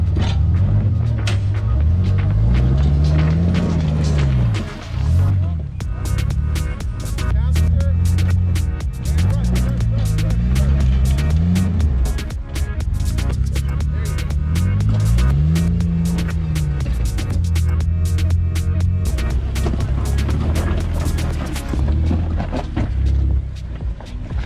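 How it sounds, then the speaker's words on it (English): An off-road Jeep crawls over rocks on a steep forest firebreak trail in Tillamook, Oregon, its engine rumbling loudly and steadily with throbbing rises and falls as it climbs, close up and continuous. "crawling over rocks."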